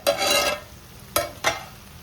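Mutton paya pieces cook in hot oil in a pan. A long stretch of steady sizzling is followed by two short, sharp stirring scrapes that sound close and clear, with no talking.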